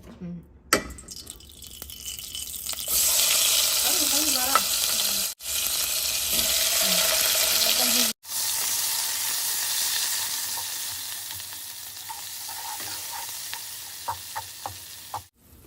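Matar paneer frying in oil in a pan, a loud steady sizzle broken by stirring scrapes and a couple of brief pauses, very close.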